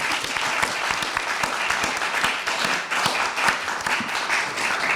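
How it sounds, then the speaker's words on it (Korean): An audience at a Korea University public speaking contest gives a contestant a long round of applause, a full, continuous roar of many hands clapping with sharp individual claps poking through. "박수로 맞아주시죠"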